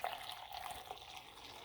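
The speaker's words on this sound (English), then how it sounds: "add some hot water to our Coral Reef Aqua" Hot water from a just-boiled kettle pours into a dye bath, a brief soft continuous trickle and splash heard close and fairly quiet, with no talk.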